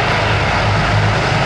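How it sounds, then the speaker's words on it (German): Four H-145M LUH military helicopters come in to land at an air show demonstration of special forces, a loud, steady, close engine and rotor roar with no voices. "Als erstes landen die 4 H-145M LUH Hubschrauber"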